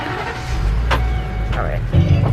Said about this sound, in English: So we're on the bus now